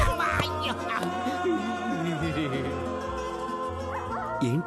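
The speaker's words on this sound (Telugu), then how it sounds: "ఏంటి నాడిలో నక్కల అరుపులు వినిపిస్తున్నాయి?" Jackals howl in a comedy film scene, their wavering, rising and falling cries layered over a low steady background for several seconds.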